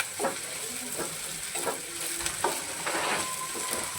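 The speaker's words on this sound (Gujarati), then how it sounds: "થોડીક વાર ધીમું ફ્લેમ ઉપર સાતળવા દેવાનું" Onions and tomatoes frying gently over a low flame in a pan, giving a soft steady sizzle broken by a few brief scraping stirs, close and fairly quiet.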